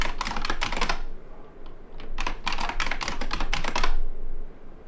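Rapid clattering keystrokes on a computer keyboard come in quick bursts with short pauses between them, close and clear, with no voices over them.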